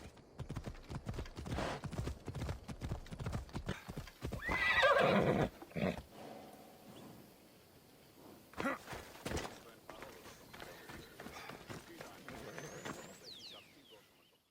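A horse in Assassin's Creed Odyssey clip-clops along at a quick pace and neighs loudly midway, with sparse talk and a faint sigh around the hoofbeats.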